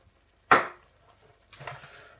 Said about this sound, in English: I'm just going to mash these as best I can with a fork